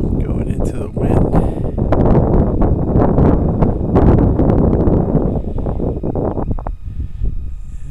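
Gusty wind rushes past during a Parrot Swing flight, a loud continuous roar with buffeting, heard under someone talking for most of the stretch.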